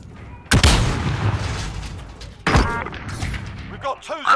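A stun grenade in Call of Duty: Modern Warfare goes off in two sharp, loud bangs about two seconds apart, each trailing into a rumbling decay, with a short bit of speech following the second.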